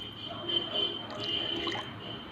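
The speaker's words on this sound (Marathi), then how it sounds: "हे पाणी मी आता याच्यामध्ये ओतून घेणार आहे" Water poured into palak and matar bhaji batter, a soft, short trickle and drip heard up close and quietly in a kitchen.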